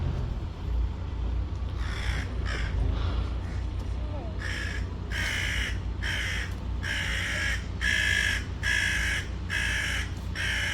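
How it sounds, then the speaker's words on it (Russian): A crow caws repeatedly on a hot summer day, a series of harsh rasping calls growing louder and more regular in the second half, nearby, over a low background hum with faint talk early on. "ворона ругается"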